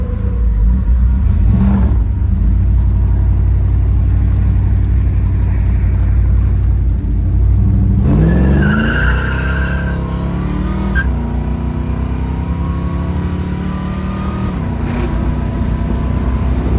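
A 1967 Oldsmobile Cutlass convertible resto-mod muscle car roars loudly and continuously, its engine climbing through the revs, then the tires scratch as it shifts into second gear and keeps pulling hard up to speed.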